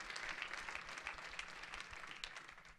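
Very faint, continuous applause rises from a church congregation during worship, a soft, far-off patter of many hands clapping without pause.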